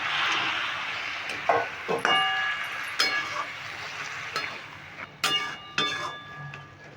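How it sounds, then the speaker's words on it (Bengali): Water poured into a kadai of banana flower curry sets off a steady hiss, broken by several sharp metallic clinks and clatters of utensils against the pan, fairly faint and close. "এখন আমি দিয়ে দেবো একটু জল"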